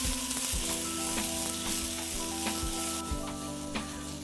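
Brussels sprouts blackening in a hot pan fill the scene with a steady, close sizzle and crackle, with occasional sharper pops and no one talking.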